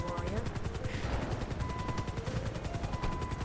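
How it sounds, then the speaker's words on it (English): Steady rhythmic helicopter rotor thumping from Grand Theft Auto V runs throughout, dense and close, with bursts of gunfire and game sound effects layered over it. "Oh, good, there's a helicopter here."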